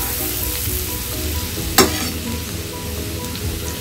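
Grated garlic sautéing in melted butter, a steady close sizzle and crackle, broken once by a sharp scraping stir partway through.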